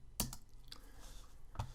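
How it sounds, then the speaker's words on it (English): Keyboard keys tapped twice at a computer, one sharp click near the start and another near the end, with faint room hiss between. "I'll hit N on the keyboard to define that"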